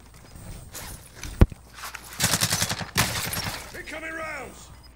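Call of Duty Warzone gameplay with a sharp crack followed by a rapid burst of machine gun fire, then a second short volley, loud and close, amid game noise and voices.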